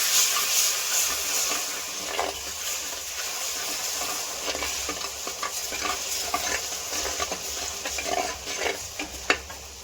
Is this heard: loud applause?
no